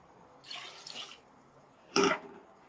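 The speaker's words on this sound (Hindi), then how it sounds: "तकरीबन 1 गिलास जितना हम डालेंगे पानी।" Water goes into a cooking pot for chicken yakhni pulao: a short soft splash, then a brief louder pour near the end, quiet and close, with no talking.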